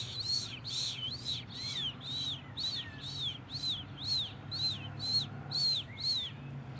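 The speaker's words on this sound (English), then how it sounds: "I'm just listening to the birds and stuff." A bird repeats a bright, rising chirp about a dozen times in a steady rhythm, clear against a quiet low background hum.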